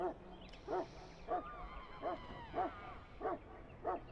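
A Mabari warhound barks in the fantasy video game Dragon Age Origins, seven evenly spaced single barks about half a second apart, moderately close, over faint background ambience with no talking.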